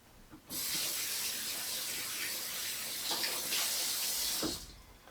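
Kitchen tap running over a quick rinse during lasagna preparation: a steady rushing hiss of water that starts abruptly, holds for about four seconds with slight splashing changes, then cuts off.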